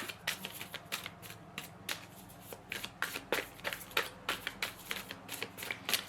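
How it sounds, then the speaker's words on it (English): Tarot cards being shuffled by hand, a steady run of crisp riffling and slapping bursts repeating throughout, close and fairly quiet with no talk. "let me get some cards from the tarot."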